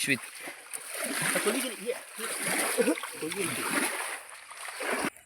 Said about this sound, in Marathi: पाणी खूप जोरात येतं आहे इकडं बांध घातला आहे